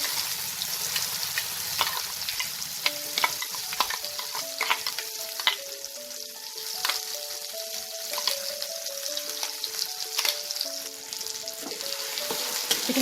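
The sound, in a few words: stirring flat bean paste frying in oil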